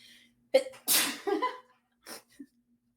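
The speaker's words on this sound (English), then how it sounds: "I have to sneeze." A single sharp sneeze up close, preceded by a quick intake of breath, followed by a short breathy sound and quiet.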